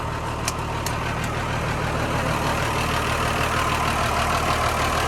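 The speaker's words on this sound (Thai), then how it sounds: "เครื่องยนต์6สูบนะครับ ครับใช้เครื่องโคมัสู 6D 110 นะครับ6สูบมีเทอร์โบครับ" A Komatsu WA350-1 wheel loader's six-cylinder turbocharged Komatsu 6D110 diesel engine idles loudly close by, a continuous low rumble with a few faint metallic clicks near the start.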